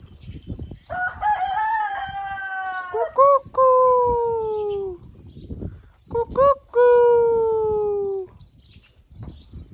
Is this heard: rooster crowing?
yes